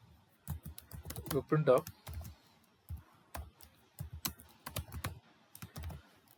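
Quick bursts of clicking keystrokes on a computer keyboard, sometimes in rapid runs and sometimes in single taps, with someone speaking briefly in between.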